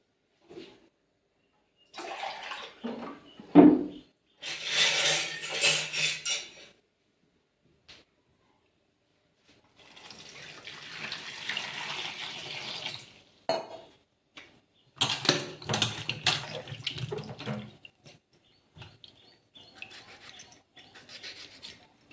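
Tap water runs in bursts for washing in a home kitchen, with splashing and clatter of dishes between pauses of quiet, close and moderately loud.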